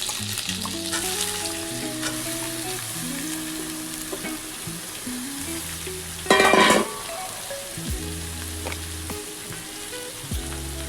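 Vegetables for lau shukto, a bottle gourd dish, fry and sizzle steadily in a pan while being stirred, with a brief louder burst of hiss midway and scraping strokes throughout.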